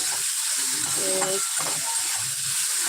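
Food sizzles steadily in a hot pan with oil, a dense continuous frying hiss that stays loud and close throughout, with a few faint stirring clatters mixed in.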